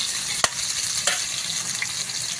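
Squid curry with ginger sizzles steadily in a pan while a utensil stirs it, with two sharp scraping knocks against the pan over the continuous frying hiss, nearby and with no voices.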